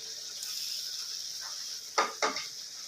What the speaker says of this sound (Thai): แล้วก็ผัดคลุกเขาสักครู่นะครับ